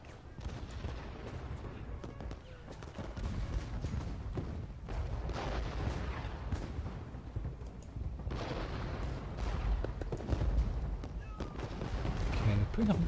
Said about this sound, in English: All of our artillery is still engaging, which is good.